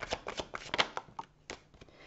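Tarot cards shuffled and flipped close up in quick, crisp riffling bursts with soft slaps, alone and fairly quiet.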